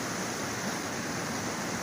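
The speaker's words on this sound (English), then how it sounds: "Cold Brook Falls right there." Steady, dense roar of the Cold Brook Falls waterfall close by an old mountain footbridge, an unbroken hiss of cascading water with no talking.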